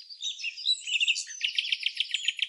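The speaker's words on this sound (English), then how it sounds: "Say hello to the Eurasian golden oriole" A Eurasian golden oriole sings in the Moroccan wild. It gives fluting, whistled phrases followed by a quick run of repeated chirping notes. The song is clear and fairly close, with no talking over it.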